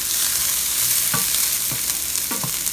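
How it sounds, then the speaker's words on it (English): Browning Italian sausage with thick tomato paste fries in a loud, close, constant sizzle, with a few heavy scraping strokes as the stiff mixture is stirred. No one speaks. "It's so thick, it's hard to stir up in here."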